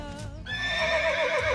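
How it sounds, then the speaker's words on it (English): A single horse gives a loud, close whinny, a rising high cry that shakes and tails off over about a second, with soft hoof clatter and outdoor rumble underneath. "Why do horses neigh?"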